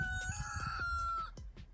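A rooster crows once nearby, a loud drawn-out call that drops off near the end, with a faint rustle underneath.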